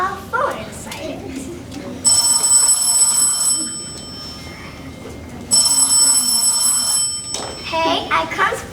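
A mobile phone built into a novelty item rings during a school class assembly, two bursts of bright electronic ringing separated by a pause, fairly loud, with children's voices talking before and after.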